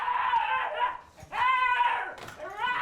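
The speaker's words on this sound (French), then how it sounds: "Ces chiens de traîneau réputés pour leur endurance et leur résistance au froid." Sled-dog huskies at a breeding kennel whimper and howl in long, wavering, high-pitched cries, several dogs close together in overlapping calls with a brief pause midway.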